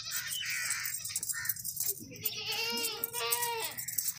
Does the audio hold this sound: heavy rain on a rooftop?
no